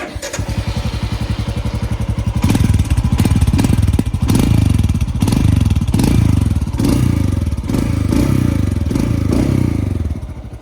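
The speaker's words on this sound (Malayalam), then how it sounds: "ഈ എക്സോസ്റ്റിൻ്റെ നോയ്സ് കുറച്ചും കൂടെ ബെറ്റർ ആയിട്ടുണ്ടെന്ന് തന്നെ ഫീൽ ചെയ്യുന്നുണ്ട്" A Royal Enfield Scram 440 motorcycle engine rumbles steadily and loudly throughout, its exhaust note pulsing and rising with throttle blips, with no talking over it.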